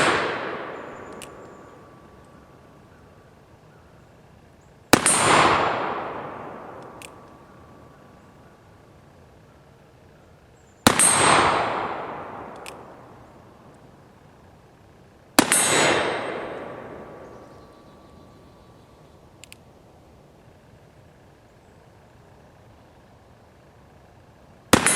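A Remington revolving carbine fired four times, each shot a sharp loud crack with a ringing decaying tail, spaced roughly five seconds apart, heard without any talking.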